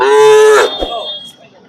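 A young Punganur breed calf gives one loud, close moo that lasts just over half a second, then trails off into quiet.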